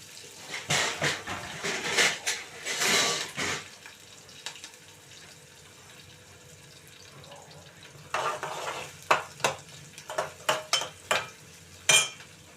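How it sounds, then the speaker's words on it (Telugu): Chopped onions and green chillies frying in a pan over mustard and cumin seeds, stirred in bursts of loud scraping and clattering with a light sizzle in the pauses. "ఉల్లిపాయలు పచ్చిమిర్చి వేసానండి బాగా కలుపుకుందాం"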